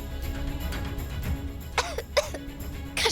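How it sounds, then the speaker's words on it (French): A person coughs several times in a row, short rough bursts close to the listener, with a faint steady hum underneath and no talk. "Pourquoi tu tousses autant?"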